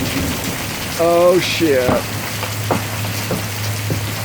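Hail and heavy rain during a storm, a steady dense patter running throughout, with a person briefly swearing over it.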